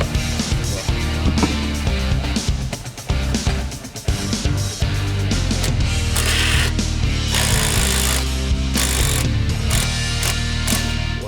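A power tool, likely an impact gun, works on a car's suspension bolts during repairs for an MOT test: loud, harsh rattling bursts that start and stop, then run continuously, close up.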